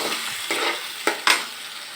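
Loitta (Bombay duck) fish frying in hot oil for a mashed fish bharta, a steady bright sizzle with a few sharper spits and crackles near the end, close up and without voices.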